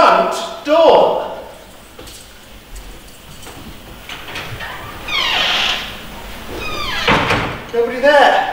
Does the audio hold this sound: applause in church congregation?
no